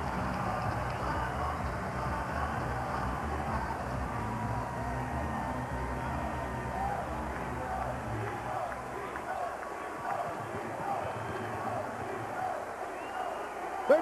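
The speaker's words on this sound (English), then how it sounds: "the crowd responds as they see the fighter approach the ring" A boxing arena crowd rumbles with a continuous, murmuring roar as the fighter approaches the ring at the De La Hoya vs Trinidad fight, with a faint commentator's voice under it.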